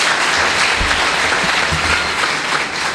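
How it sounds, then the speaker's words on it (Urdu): Loud, sustained applause fills a church congregation during a sermon on blessing, a dense continuous clatter of many hands held steady for about three seconds with no speech over it. "زوردار تالیاں."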